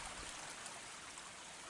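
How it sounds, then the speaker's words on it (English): A stream of running water flows steadily near a wooded mountain area where bears roam, a constant soft rushing and trickling that stays even throughout, heard alone at low level. "Right down below here, there's a water source right here."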